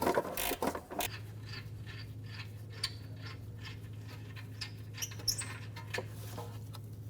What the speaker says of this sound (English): we're using our flexible head gear wrench on the other bolt here